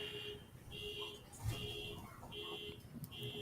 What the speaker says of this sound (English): I hear the alarm